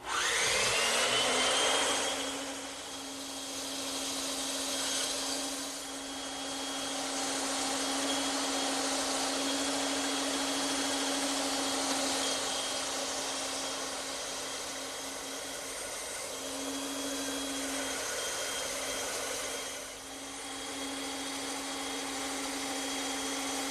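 A power saw cuts a wood corner piece held at 45 degrees in a cradle, a steady loud whine running throughout with brief dips as the piece feeds through the blade; no talking.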